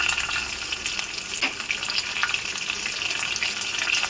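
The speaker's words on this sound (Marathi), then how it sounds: "त्यामध्ये घालूयात एक चमच मोहरी मोहरी थोडी तडतडली किंवा त्यामध्ये घालूयात जिरं एक चमच यानंतर लसूण घालायचं आहे" Mustard seeds, cumin and garlic sizzle and crackle steadily in hot oil in a pan, a continuous close frying hiss with scattered pops and no talk.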